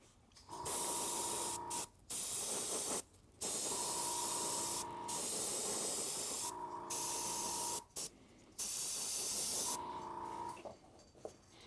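Repeated bursts of spray paint from a can misting over Battletech miniatures and onto a cutting mat, four or five steady hissing passes of a few seconds each with short gaps between, close and fairly loud.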